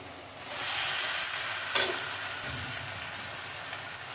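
Boiled pasta tipped into a pan of soy-sauce mixture and stirred in, a soft steady sizzle with scraping of a utensil and a brief clink partway through, fairly faint and without speech.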